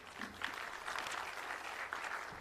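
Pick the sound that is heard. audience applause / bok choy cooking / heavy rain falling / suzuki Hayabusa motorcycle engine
audience applause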